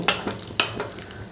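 Small cubes of paneer being stirred in a pan for a chana paneer dish, giving two sharp scraping strokes followed by softer scrapes and a light sizzle, close and moderately loud with no talking.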